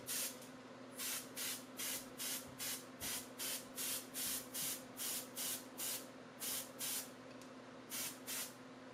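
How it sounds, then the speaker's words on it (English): A spray can puts red paint onto a fishing lure in about fourteen short, even bursts of hissing spray, regularly spaced and close, over a faint steady hum. "I masked off half the lure and all of the dowel, and sprayed the rest with red paint"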